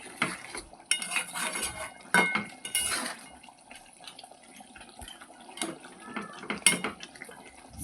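A spoon stirs flat beans and fried bori in a curry in a metal pan, making repeated clanks and scrapes in uneven bursts with quieter moments between them.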